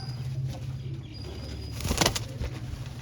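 A loose group of flying and breeder pigeons coos quietly near a low background hum, then a brief close flurry of wingbeats rises and fades.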